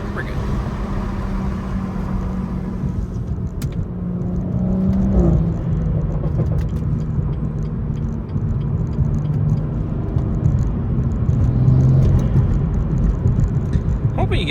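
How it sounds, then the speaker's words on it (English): A BMW M240 turbo engine drives at night, giving a low steady whir and rumble with slight rises as boost builds, close and continuous, while someone talks over it. "Hoping you guys can hear the turbo."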